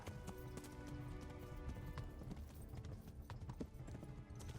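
Horse hooves clip-clop in the video game Kingdom Come: Deliverance, a steady rhythm of soft thuds running throughout, with an occasional faint snort and game sounds in the background.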